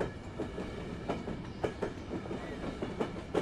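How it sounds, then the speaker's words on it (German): Train rolling along rails in the Zompiercer video game at night, a steady rumble with rhythmic clickety-clack wheel beats recurring every half second or so, moderately loud and continuous. "Etwas gruselig hier so im Dunkeln im Zug zu fahren, oder?"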